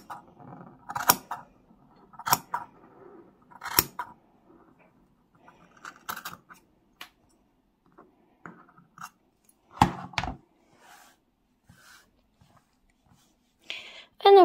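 Scissors snip through crochet yarn tassels in a few scattered crunchy cuts with quiet gaps between them, close and fairly soft, with no talking.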